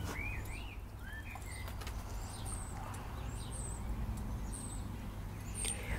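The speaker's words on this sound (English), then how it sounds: "the birds are singing" Birds sing in a garden on a spring day, several short chirps and whistled phrases scattered across a faint, steady background hum.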